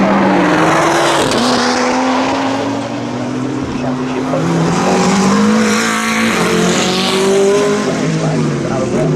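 A Mercedes GT race car entered by 2Cs Motorsport runs in the British GT at Donington Park, engine droning loudly and continuously with rising and falling pitch while a commentator talks over it throughout.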